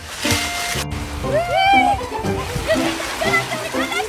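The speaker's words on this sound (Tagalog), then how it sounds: "Batang naliligo sa dagat." Children splash while bathing in the sea, with sloshing water and bursts of spray mixed in with excited high voices and shouts throughout, and a brief dropout near the start.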